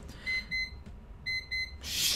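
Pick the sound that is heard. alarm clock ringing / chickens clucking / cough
alarm clock ringing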